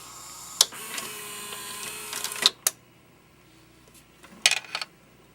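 A Sharp VC-381 VCR eject mechanism, built with relays, gives a few sharp mechanical clicks and clunks with a short whirring stretch between them, close and fairly quiet, with no talk.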